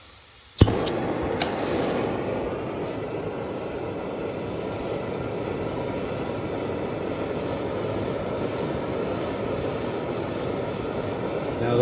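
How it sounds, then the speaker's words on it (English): A propane torch burns with a steady, loud roaring hiss as it heats jaw harp frames, lit with a sharp ignition snap near the start and then holding an even, continuous rush for the rest. "I'm going to do it simply with my propane torch here"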